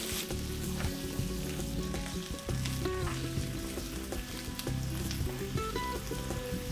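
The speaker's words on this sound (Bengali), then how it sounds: "শিম দিয়ে এক মিনিট ঢাকা দিয়ে ভাজবে তারপর পেঁয়াজ কলিগুলো দিয়ে দেবে" Green beans and onion stalks fry in hot oil in a pan, giving a steady, close, continuous sizzle with crackling pops and no voices.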